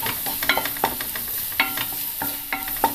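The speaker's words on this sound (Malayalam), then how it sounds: "മഞ്ഞൾപ്പൊടി ഇങ്ങനെ വഴറ്റുമ്പോൾ ആദ്യമേ ഒന്നിട്ട് എണ്ണയ്ക്കകത്തൊന്ന് മുരിഞ്ഞ് വരുന്നതാണ് അതിന് കൂടുതൽ ടേസ്റ്റ്." Turmeric powder frying in hot oil while being stirred for a palak chicken curry, with scraping stir strokes in bursts over a steady soft sizzle, close and alone.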